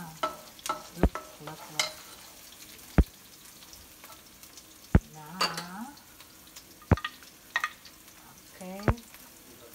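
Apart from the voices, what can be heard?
shrimp frying for garlic and oyster sauce fried rice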